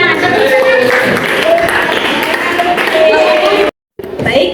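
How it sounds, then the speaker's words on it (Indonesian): A classroom of students clapping hands together in sustained, dense applause that breaks off abruptly near the end, with voices mixed in. "Oke, tepuk tangan."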